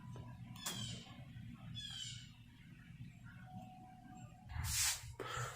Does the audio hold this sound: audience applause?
no